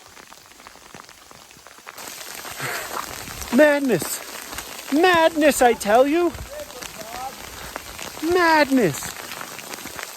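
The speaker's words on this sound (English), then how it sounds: "This is hail, by the way, guys. This isn't snow. This is hail." Hail falling in Uinta National Forest, a steady dense patter across the whole stretch, with excited voices talking loudly over it.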